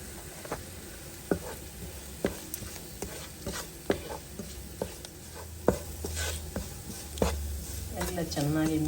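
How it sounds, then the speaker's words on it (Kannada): A spoon stirs spice masala with chili powder, cumin, coriander, garam masala and salt in a pan, giving a series of regular scraping knocks over a soft sizzle, close and fairly clear. "ಎಲ್ಲ ಚೆನ್ನಾಗಿ ಮಿಕ್ಸ್ ಆಗೋ ಥರ ಈ ರೀತಿ ಕೈ ಆಡಿಸ್ಬೇಕು."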